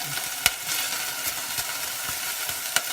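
Dry sherry hitting shallots in a hot pan while making gluten-free gravy: a continuous close, loud sizzle with a few sharp pops and spatters, no voices over it.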